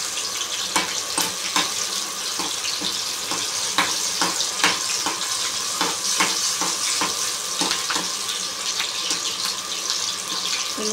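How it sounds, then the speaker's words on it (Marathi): Green chilies fry in a pan for a Navratri fasting bhagar khichdi, a continuous close crackling sizzle with scattered sharp pops throughout. "मिरची आपण चांगली फ्राय होऊन घेऊ."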